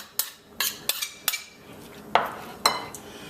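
Scotch bonnet pepper, tomato and scallions drop into a pot for Caribbean curry chicken pelau, making a run of sharp metallic clanks and knocks, about eight distinct hits spaced irregularly and close by.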